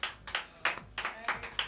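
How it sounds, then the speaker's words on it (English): A few people clap for a DJ guest in a small studio interview, sparse, uneven bursts of hand claps close to the microphone with pauses in between. "Hitman, round of applause."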